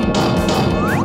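A hammer drives nails into a house frame during a makeover build: three sharp, loud knocks roughly evenly spaced, set against steady background music.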